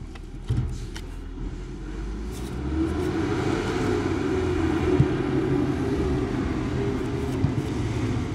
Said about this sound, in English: Man, trucks are loud.